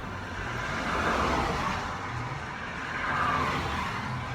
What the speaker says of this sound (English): Watching traffic on the A50 in Stoke.